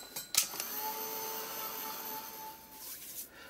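Electric dryer blowing over a freshly painted art journal page, a steady whirring hum with a whine, switched on with a click and running for a few seconds.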